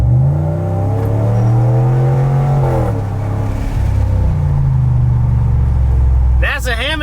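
Straight-piped 2019 Ram 1500 pickup with a 5.7 Hemi V8, muffler removed, rumbling at a warm idle with a deep, steady, loud exhaust drone throughout, a brief blip around the middle and a short burst of another sound near the end.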